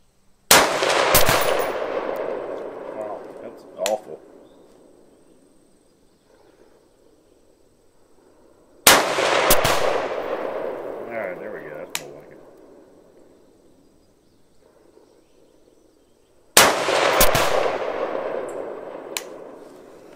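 Three sharp 6.5 Creedmoor rifle shots crack out at a 100-yard range, each spaced several seconds apart with a long decaying echo, loud and close, no talking over them.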